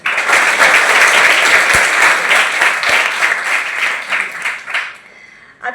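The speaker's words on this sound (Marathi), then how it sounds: "सर्वांनी स्वतःसाठी एकदा छान मस्त जोरात टाळ्या वाजून द्या" Students and teachers at a school eco-friendly Ganesh idol-making workshop in Dhamangaon give a loud, sustained round of applause that fills the room, then tapers off near the end.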